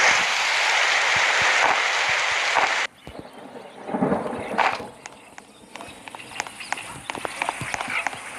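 In the video game 99 Nights in the Forest, a steady roar of rain gives way to a lower rumble of thunder, then scattered rain taps and clicks continue, fairly quiet.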